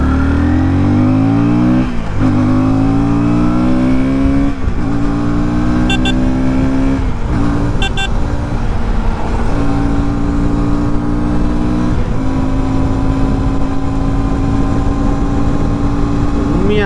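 A 2026 KTM 160 Duke motorcycle accelerates hard during a speed test after a U-turn. The engine is loud and close, climbing repeatedly through the gears, and each upshift brings a short dip before the pitch rises again. A rider speaks briefly over it.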